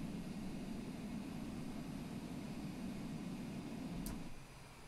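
Airplane engine drone from Microsoft Flight Simulator, a steady, even hum at moderate level that drops slightly near the end.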